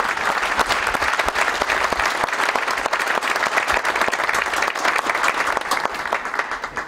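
Members of a Pyeongnam Presbytery regular assembly applaud Rev. Kim Bong-seong's succession as presbytery moderator, loud, dense clapping from a packed hall that holds steady for several seconds before tapering off.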